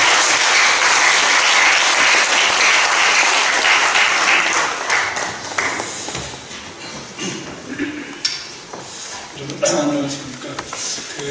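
A congregation at a joint worship service marking the 100th anniversary of the March 1st Movement gives loud, dense applause that gradually fades, with a speaker's voice emerging near the end.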